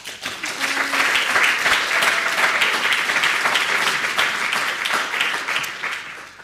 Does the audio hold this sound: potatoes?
no